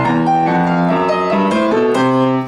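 A rock and roll piano ending riff starting on C, played as a quick run of bright, swinging notes and chords, close and alone with no talking.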